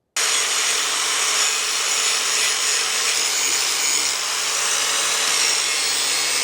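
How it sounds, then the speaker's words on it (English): A power tool shaves and bevels a metal edge for timing cover clearance on a BMW E30 drift car build, giving a steady, loud, unbroken grinding rasp that holds for several seconds with no talk. "I think I'm going to try to shave this here and bevel this edge right here so it's kind of on like an angle"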